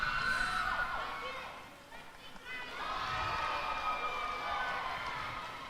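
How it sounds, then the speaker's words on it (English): Women on the Bluebonnets bench at a U.S. Open netball championship cheer and shout enthusiastically, a sustained crowd of voices over several seconds with a brief dip in the middle before rising again. "Bluebonnets ladies cheering"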